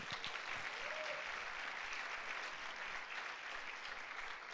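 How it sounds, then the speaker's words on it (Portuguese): A church congregation at a pastors' gathering applauds, a fairly faint, even wash of clapping from a crowd sustained throughout. "Então dá um aplauso a Jesus"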